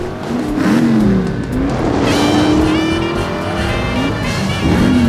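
A car drives in the video game The Saboteur, its engine revving loud and close with rising and falling pitch as it accelerates, and brief tire squeals along the way.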